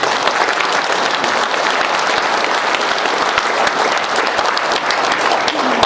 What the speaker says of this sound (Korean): 자축하는 의미에서 박수를 한번.